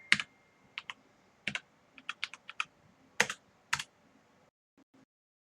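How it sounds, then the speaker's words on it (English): Typing on a computer keyboard, a dozen or so crisp key clicks in short uneven bursts, close and clear in a quiet room with no talking. "Oh, we should just type it."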